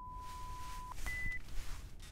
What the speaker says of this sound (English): that friendly little beep means